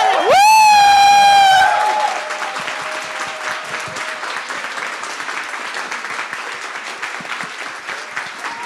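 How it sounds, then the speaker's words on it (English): Award ceremony audience at the International Physicists' Tournament 2022 breaks into clapping and cheering, a loud whistle-like whoop rising at the start, then sustained broad applause continuing steadily to the end. "Clap each other."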